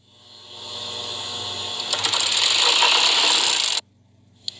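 An overlock sewing machine cutting and finishing fabric edges, spinning up into a loud, steady, high whirring run with rapid stitching clatter for several seconds, then stopping abruptly, followed by a small click.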